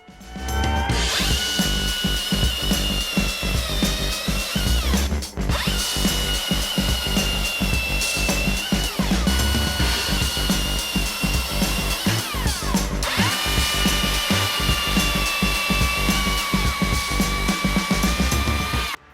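A Husqvarna 540i XP top-handle battery chainsaw cuts through 4-inch ash, whining loudly and steadily in three long bursts with brief dips between cuts, close up and with no talking.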